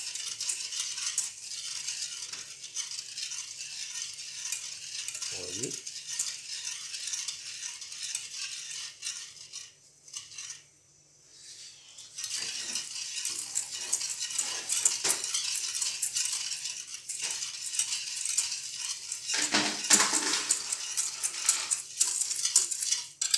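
Sugar being stirred in a pan over gentle heat while making Almendro nougat, a soft continuous scraping and rattling with a few brief louder utensil knocks, steady and close throughout.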